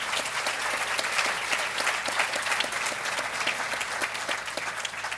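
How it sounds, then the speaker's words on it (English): Audience applauding at a university award ceremony: dense, sustained clapping from a sizable crowd, steady and bright throughout without a break, with no talk over it. "Please join me in one more applause for Clara."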